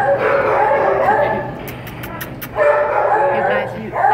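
A small dog yips and whimpers close by amid a busy, noisy background, with a short pause in the middle before the excited yapping resumes.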